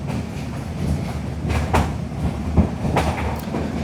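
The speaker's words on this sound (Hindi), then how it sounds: "5260 मैलानी बिछिया टूरिस्ट ट्रेन" Mailani–Bichhiya tourist train rolling through the Dudhwa forest, a steady rumble with rhythmic wheel clatter and a few sharper clanks over the rail joints, heard close by and alone.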